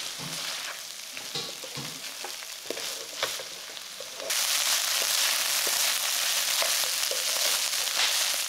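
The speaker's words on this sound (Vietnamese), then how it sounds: "Tiếp tục xào cho đến khi nấm chín" Ground pork and mushroom filling stir-fries in a pan: scraping stirs and clatters over a light crackle, then a loud, dense sizzle that surges midway and holds, close and steady.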